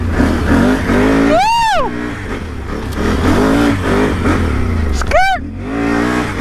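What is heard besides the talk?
off-road truck engine revving through mud trail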